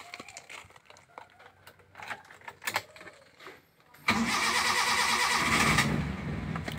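A used car's engine in an Indonesian dealer's stock turns over about two-thirds of the way through, after quiet handling noises, then runs loud and steady close by until the end.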